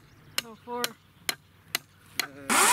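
Hammer blows pound a fence post for a high-tensile electric fence, five sharp, evenly spaced strikes ringing out close by, the last one followed by a louder burst of noise.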